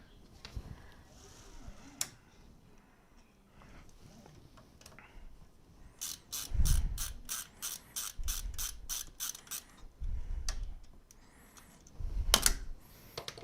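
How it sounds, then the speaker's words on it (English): A screw is backed out of the right-side cover of a Prusa 3D printer being converted from an Mk4 to a Core One, producing a fast run of ratcheting clicks from a driver, loud and close, with some handling thumps. "Remove the screw holding the cover on the right side."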